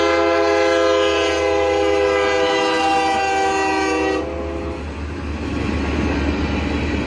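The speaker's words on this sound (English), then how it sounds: "just a really short train, UP" Short Union Pacific train rumbling steadily past at close range, with a loud, sustained multi-tone horn blast for about four seconds before it cuts off, leaving continuous rail and wheel noise.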